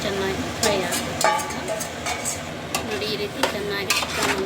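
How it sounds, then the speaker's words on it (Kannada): Chicken pieces are tossed into a spiced tempering in a pan for biryani, with a metal spatula clattering and scraping in repeated sharp strokes over a steady low sizzle, and a voice in the background. "ಈ ರೀತಿ ಚೆನ್ನಾಗಿ ಚಿಕನನ್ನು ಮಿಕ್ಸ್ ಮಾಡ್ಕೊಳ್ಳೋದು"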